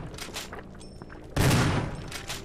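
Gunfire in the survival horror game Resident Evil Remastered, one loud blast after quieter background game noise, then fading away.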